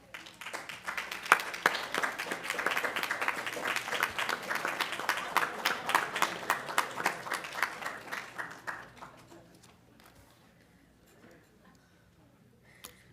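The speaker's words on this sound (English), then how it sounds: "Could you please rise and give them a round of applause?" Audience applause at a university graduate studies commencement ceremony: sustained clapping from a large seated crowd for about nine seconds, then fading away to quiet room tone.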